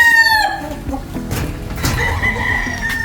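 A gamefowl rooster crows loudly and close at the opening, its call trailing off, followed by scattered clucks and other roosters crowing more faintly in the background of a breeding yard.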